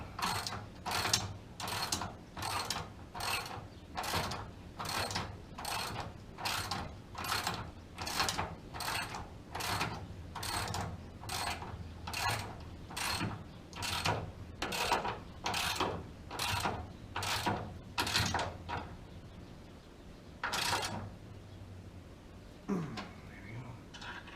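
A hand ratchet wrench clicks in a steady rapid rhythm of about twenty close, crisp strokes while tightening bolts during a car K-member installation, then stops with a few scattered clicks.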